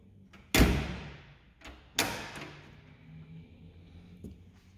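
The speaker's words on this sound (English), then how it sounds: "so we'll close the door." The door of a 1990 Jeep Wrangler YJ swings shut with a sharp, close metallic slam, followed by a second softer thud and a faint click.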